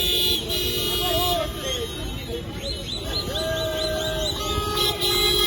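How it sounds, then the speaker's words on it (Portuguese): Car horns from passing motorists on a busy street, sustained tones and short toots overlapping in a steady stream of honking amid traffic and voices. "mas era inevitável esta avalanche de buzinas"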